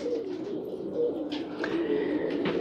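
Domestic pigeons cooing on a rooftop, soft low repeated coos close by over a steady outdoor background, with no talking.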